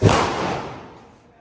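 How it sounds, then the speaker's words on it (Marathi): A single firecracker bursts close by during Lakshmi Puja festivities, a sharp loud bang that decays into a fading rumble over about a second. "आता व्हिडिओ शूट आणि थोडे फटाके फोडणे चालू आहे"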